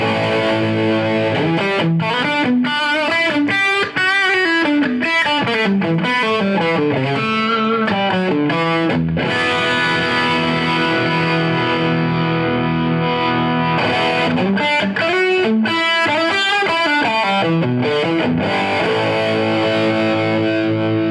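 Heavily distorted electric guitar riffs through a heavy amp model, thick and saturated, with chugging palm-muted passages and sustained chords, loud and continuous.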